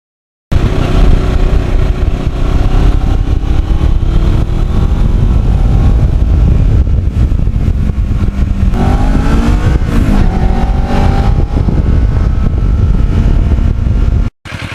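A Kawasaki Ninja motorcycle rides along quiet back roads, its engine droning steadily and loudly up close with wind rush, the pitch rising and shifting through gear changes midway.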